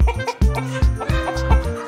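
A hen in a field with her chicks gives a rapid series of close, full-bodied clucks in a steady, pulsing rhythm.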